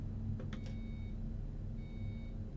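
A bus's warning beep in the Euro Truck Simulator 2 driving game, a few short faint electronic bleeps over a steady low engine drone inside the cab.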